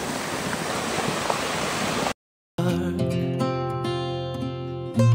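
Water flowing down from the hills toward a dam rushes as a steady, loud broadband roar for about two seconds, cuts off abruptly, and gives way to music.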